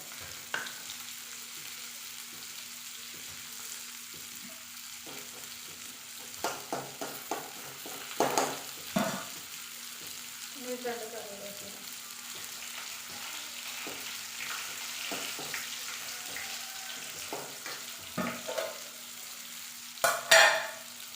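Sliced onions frying until brown in a home kitchen pan, a faint steady sizzle with scattered clinks and scrapes of stirring, a few louder knocks near the end.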